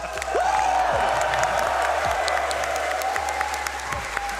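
An esports arena crowd at a major tournament quarterfinal applauds and cheers, with dense sustained clapping, scattered whoops and a tonal whistle-like cry rising above it, all steady and loud throughout.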